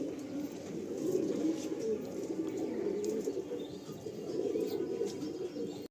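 Several pigeons in a loft kept for sale coo in a low continuous murmur, with faint chirps and brief wing flutters mixed in, moderately close and steady throughout.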